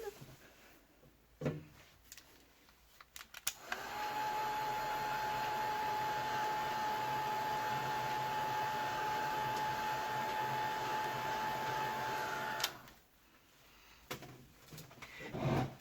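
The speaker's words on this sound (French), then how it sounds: "Je vais sécher ma Versafine." A dryer blows over Versafine stamp ink on a stamped gel press print, holding a steady, even whirring hum for about nine seconds, with light clicks and handling noises before it starts and after it stops.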